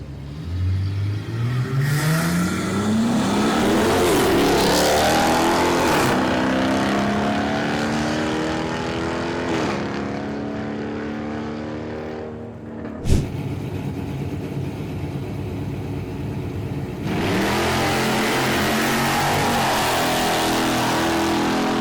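A Dodge Challenger R/T with a 5.7 engine launches on a drag strip, revving hard as it pulls away through rising gear changes, then fades into distance before a loud thump and a steady roar of another run.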